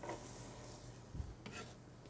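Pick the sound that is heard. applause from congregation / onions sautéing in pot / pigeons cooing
onions sautéing in pot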